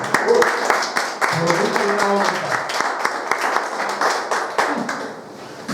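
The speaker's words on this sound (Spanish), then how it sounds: "Déjame dar un aplauso a Cristo porque Él es bueno." A church congregation applauds during a sermon, a burst of dense clapping mixed with voices and shouts, loud and close, thinning toward the end.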